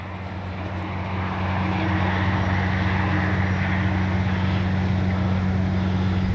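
An XFLY F-35 70mm EDF RC model jet flies past with a steady, loud ducted-fan whine and rush of air that swells and holds without pause.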